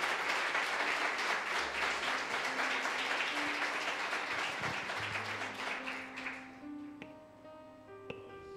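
Churchgoers at a morning service clap together in a full, steady burst that thins out and fades after about six seconds, leaving soft sustained keyboard notes ringing alone.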